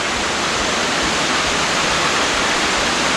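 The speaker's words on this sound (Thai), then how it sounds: "คือน้ำตกที่นี่นะครับก็จะเป็นน้ำตกไม่ค่อยใหญ่นะ" Small waterfall in Mae Kampong village, a steady broadband rush of falling water close by, continuous and loud with no voices over it.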